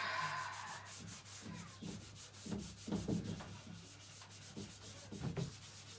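The scouring side of a sponge rubs across a painted cabinet in close, rhythmic back-and-forth strokes, around nine scratchy passes with short gaps, no talk.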